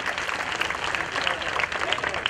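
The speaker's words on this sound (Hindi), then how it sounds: "जोरदार तालियां आप लोग बजाइए।" An audience at a GK competition prize distribution claps steadily for a first-prize winner, a dense, continuous round of applause that stays loud throughout.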